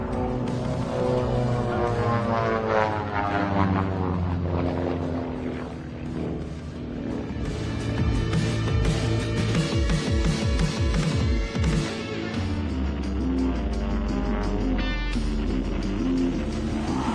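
Propeller aerobatic planes of Redline Air Shows, a father-and-son two-ship formation team flown by Ken and Austin Reeder, pass overhead at an airshow with a loud, sustained droning engine roar that rises and shifts in pitch.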